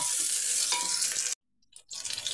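Chili and onion fry in a pan with a loud, close sizzling hiss and stirring. The sound cuts out briefly to near silence, then the sizzle returns.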